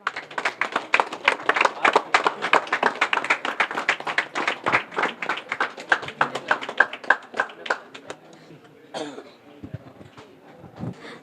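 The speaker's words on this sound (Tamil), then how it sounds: "நல்ல கைத்தட்டலுடன்" A crowd at a kolam contest prize-giving ceremony claps densely and loudly for about eight seconds, then the applause thins to scattered, fading claps.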